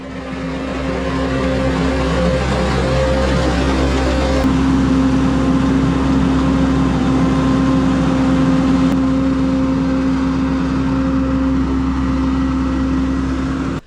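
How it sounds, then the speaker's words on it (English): A mini skid steer fitted with a forestry mulcher runs continuously, its engine droning loud and close with a steady whine that shifts pitch as the load changes. "I'm going to put this forestry mulcher for the mini skid steer, this little mini mulcher."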